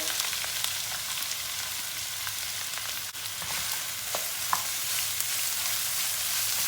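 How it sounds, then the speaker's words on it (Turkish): Plenty of onions sizzling steadily in heated oil in a pan for a Turkish bread stew, a dense continuous crackle with occasional stir clicks, close and alone. "Soğanımızı iyice bir kavuracağız"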